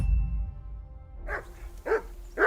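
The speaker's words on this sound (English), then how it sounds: "Let that mutt of yours to stop barking." Dog barking in the medieval role-playing game Kingdom Come: Deliverance II, three sharp barks evenly spaced after a low rumbling start, fairly close and clear with no talk over them.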